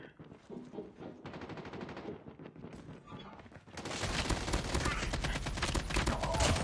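AK-47 assault rifle firing in CoD Mobile on the Alcatraz map: rapid automatic bursts, lighter at first, then a loud sustained stream of fire from about the four-second mark to the end.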